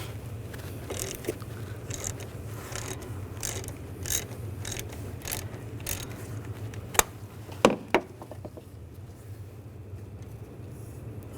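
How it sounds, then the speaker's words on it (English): A ratchet fitted with an 8 mm hex socket loosens the radiator bleeder screw on a 2008-2012 Jeep Liberty 3.7L V6, giving a quick run of close, quiet clicks and then a few louder clacks, with no talking. "We're going to use an 8mm hex socket"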